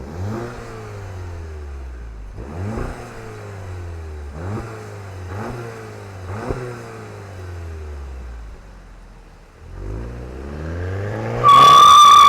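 A 2025 Volkswagen Jetta GLI Autobahn revs through a series of rising engine sweeps that repeatedly climb and drop back, close and loud, then pauses before one more climb ending in a sharp, bright high-pitched tone.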